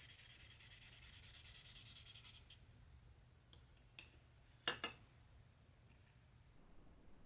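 Plastic parts for a Fujimi 1/20 Williams FW16 Formula 1 scale model are sanded with fast, soft rubbing strokes at close range, then a few sharp clicks and taps follow in a quieter stretch.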